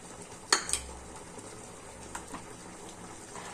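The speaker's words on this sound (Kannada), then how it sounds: "ಇವಾಗ ನಾವು ಕಸ್ಟರ್ಡ್ ಪೌಡರ್ನ ತಗೊಂಡಿರೋದನ್ನ ಮಿಕ್ಸ್ ಮಾಡ್ಕೊಳ್ಳೋಣ" Custard powder being stirred into boiling milk in a pot, a sharp metallic clink of a spoon against the pot near the start, then faint scraping and soft bubbling at low level.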